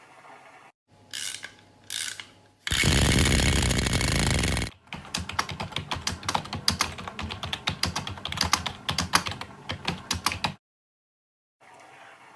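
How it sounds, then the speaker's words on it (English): Keys on a computer keyboard clatter in a fast irregular run of clicks, preceded by a few separate mechanical clunks and a burst of louder noise, close and without voices. "I was typing on my keyboard."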